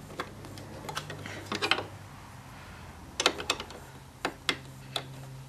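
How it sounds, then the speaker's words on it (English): A 10mm wrench works a helmet lock bracket on a Kawasaki Concours 14 sport-touring motorcycle, giving a scatter of faint metallic clicks and ratchet-like ticks in two short bursts, with quiet pauses between. "I'm going to take our 10mm wrench, and this is a really tight fit"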